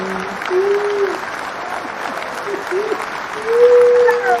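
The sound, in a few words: audience applause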